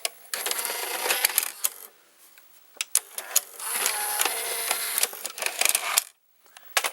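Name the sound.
Fisher FVH-825 VCR carriage mechanism running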